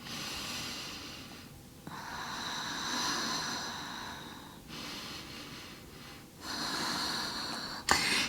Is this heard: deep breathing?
yes